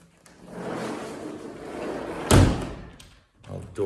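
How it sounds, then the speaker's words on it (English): A house door bangs shut with a single solid thud in the middle of a home walkthrough, with quieter handling and rustling noises before and after it. "All the doors open and close and lock"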